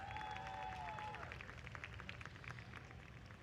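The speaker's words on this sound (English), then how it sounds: "Let's have a nice round of applause for Brad Springer" Crowd applause in the grandstand at New Smyrna Speedway during driver introductions on the final night of the World Series of Asphalt, a steady wash of distant clapping under a brief announcer voice and a tonal sweep.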